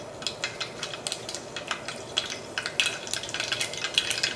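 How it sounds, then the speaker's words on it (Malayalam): Mustard seeds splutter and pop in hot oil in a pan for Kerala-style rava upma, making a quiet, irregular run of sharp crackles and spits close by, with no voices. "അപ്പോൾ കടുക് പൊട്ടിയിട്ടുണ്ട്"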